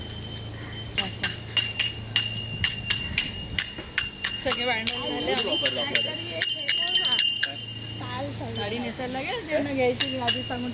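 A small hand bell rings over and over in quick, uneven bursts during Ganpati worship, its bright metallic tones lingering while voices talk nearby.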